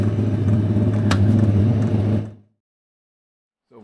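A Land Rover engine idles steadily on its first start of the season, a loud low rumble that holds for about two seconds and then cuts out abruptly into silence.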